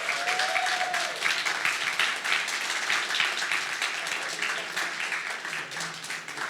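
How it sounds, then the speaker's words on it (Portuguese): A church congregation gives a round of applause for their fathers during a Sunday morning service, with steady, dense clapping filling the room throughout. "Vamos dar uma salva de palmas pelos nossos pais."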